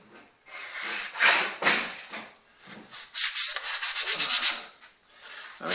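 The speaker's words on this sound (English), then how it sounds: "Just a really good straight piece of wood, pine, and then I buy sandpaper, rows like this, varying thicknesses, and then just staple it onto there." Close, rhythmic rasping strokes of sandpaper stapled to a straight pine block, worked back and forth over wood while building a Tiger Moth lower wing. The strokes run in uneven bursts, with a quicker flurry partway through.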